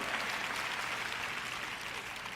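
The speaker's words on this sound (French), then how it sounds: "Vous applaudissez tous" Sustained applause from a sermon audience, steady and fairly distant-sounding, with no speech over it.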